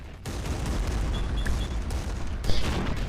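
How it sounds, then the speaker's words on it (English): A 20mm anti-aircraft gun fires in a Men of War battle at a bridge, a dense continuous barrage of rapid shots and booms over rumbling battlefield noise, with a louder burst near the end. "There's a 20mm there, anti-aircraft gun."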